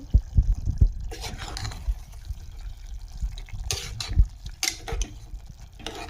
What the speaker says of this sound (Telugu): ఒకసారి కలుపుకుందాము